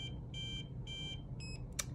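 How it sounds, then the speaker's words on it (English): Exposure beeps from an XTG x-ray machine: three evenly spaced electronic tones, then a shorter higher beep and a brief click, clear against a low background hum. "And those beeps mean that it's exposing, and then afterwards you're done."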